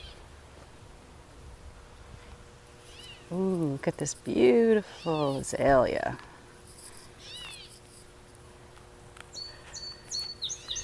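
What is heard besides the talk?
gray catbird calling outdoors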